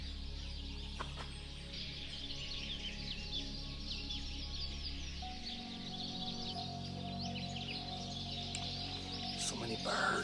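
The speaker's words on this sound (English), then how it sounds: "So many birds." Birds chirping and singing along a forest trail on Terceira, several small calls overlapping at moderate distance over a low rumble that fades partway through.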